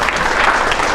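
An audience applauds during a political speech in Asheville, a short, loud burst of dense clapping.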